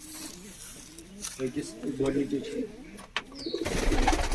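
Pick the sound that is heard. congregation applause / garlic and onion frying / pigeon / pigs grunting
pigeon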